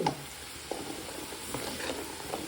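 Garlic paste being stirred into hot oil for a mango and ginger pickle, giving a close, steady sizzle with a few soft stirring scrapes.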